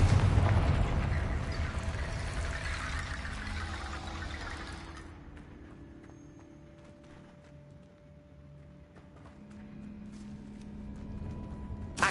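In Hogwarts Legacy, a Confringo blasting-spell explosion opens loud and close, then a rumbling blast rolls out and fades over several seconds before quieter game ambience returns.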